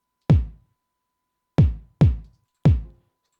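Layered kick drum samples in a drum loop, four deep, punchy thumps with quick decays and irregular spacing, close and dry with silence between hits.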